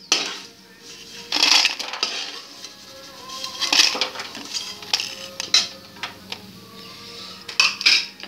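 Fried vadiyan are lifted out of a pan and onto a plate, with repeated metal spoon scrapes and clinks against the cookware and a faint sizzle of oil underneath, close and intermittent.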